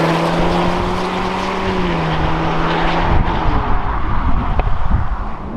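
A Jaguar F-Type 2.0L drives on open roads, its engine holding a steady, fairly loud drone that dips slightly in pitch partway through, then turns rougher and grainier with road and tyre noise near the end.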